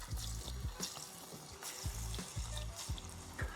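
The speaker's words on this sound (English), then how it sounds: "I'm just going to fry these off 4 at a time." Steady crackling sizzle of falafel frying in hot oil, four at a time, with a few sharper pops and bubbling bursts, continuous and fairly close.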